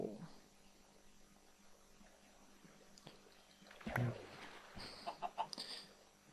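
Cartoon-style chicken clucking in a video game, a few short bursts around the middle and end of a quiet stretch, with faint game sounds and a voice briefly.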